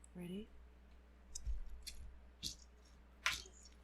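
A squishy toy is squeezed a few times, giving brief, faint squelching clicks spaced apart, close to the mic after a short voice at the start.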